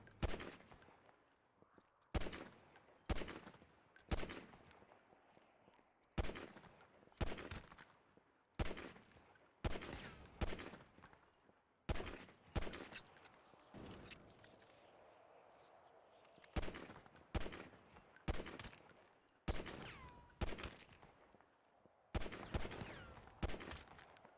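Rapid bursts of pistol gunfire at a shooting practice range in GTA 5, loud and near, sharp shots repeating in quick clusters with short pauses between volleys throughout.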